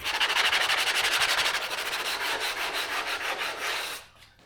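A glued-up wooden board is sanded by hand in quick back-and-forth rubbing strokes, a close, rhythmic hiss of abrasive on wood that stops abruptly near the end.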